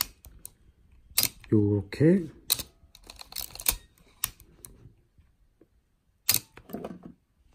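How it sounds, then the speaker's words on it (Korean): Canon AE-1 Program film camera, its film advance lever wound and shutter fired repeatedly, giving sharp mechanical clicks and ratchet sounds close to the microphone, mixed with a person speaking. "당기면 셔터 한번 또 당겨서 셔터 한번 1이 될 때까지"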